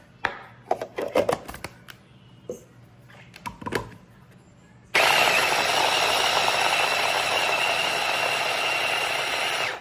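A knife roughly chops peeled shrimp in a few quick uneven bursts of taps, then a loud steady whirring blender-like roar takes over and runs continuously to the end.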